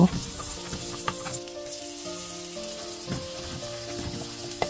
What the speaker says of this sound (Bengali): সেই বাটারেই রসুন, লঙ্কা আর পেঁয়াজ কুচি দিয়ে ভালো করে সটে করে নেব